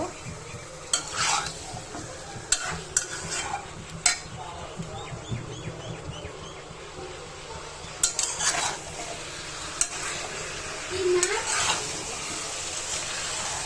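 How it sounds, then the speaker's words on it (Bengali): Chicken sizzling in a pan of spiced gravy, a quiet steady frying hiss broken by scattered clinks and scrapes of a stirring spoon against the pan. "আজকে চিকেনটি ভেজে নিয়ে নিই কষণের ভিতরে ভাজা ভাজা করে নিব"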